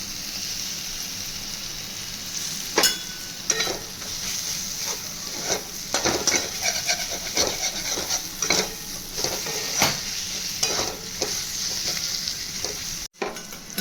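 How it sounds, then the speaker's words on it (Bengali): Spices for arhar dal dry-fry in a pan without water, giving a continuous crackling hiss broken by frequent scraping and stirring clicks, fairly close and steady throughout. "জল দেওয়া যাবে না এরকম শুকনো শুকনোই ভাজতে যাবেন"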